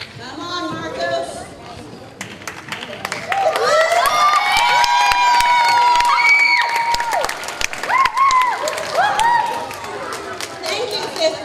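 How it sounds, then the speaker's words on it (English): Children at an elementary school morning assembly clap and cheer loudly in a large room, with a building swell of applause, high excited shouts and overlapping voices throughout. "give them one giant round of applause"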